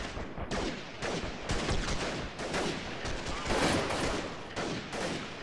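Rapid bursts of gunfire in Freeman: Guerrilla Warfare, a series of sharp, loud volleys in quick succession, some in machine-gun strings, with little break between them.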